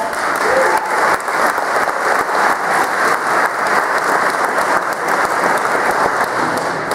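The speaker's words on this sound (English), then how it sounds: "Give them a round of applause" Sustained audience applause at an Edmonds-Woodway athletic hall of fame ceremony, a dense, steady wash of many hands clapping that holds evenly and loudly throughout.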